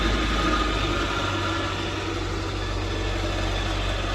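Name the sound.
noisy car engine idling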